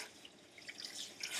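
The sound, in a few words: water flowing through a human hair wig while washing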